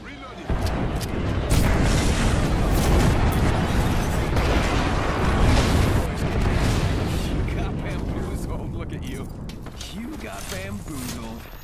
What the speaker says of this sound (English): Attention, airstrike inbound.